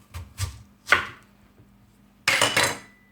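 Knife cutting through a large onion on a board, several firm thuds in quick succession, then a pause and a longer pair of heavy chops, close and clear with no talk.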